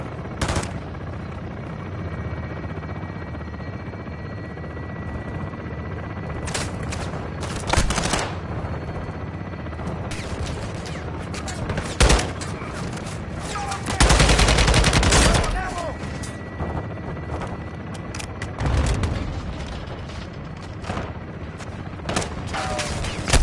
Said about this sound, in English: Taking belt-fed fire from beneath the tower.